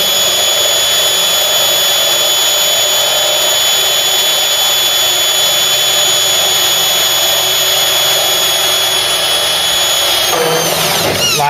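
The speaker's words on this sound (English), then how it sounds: "I'm touching the edge of the chassis with a chuck of the drill" A power drill whines loudly and continuously at a steady pitch, then shifts to a rougher grinding as it bites through the chassis of a Ford Cortina Mk3, its chuck touching the edge, near the end.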